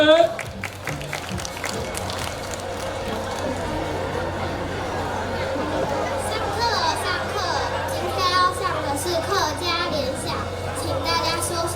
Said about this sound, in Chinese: 给我们士林国小掌声鼓励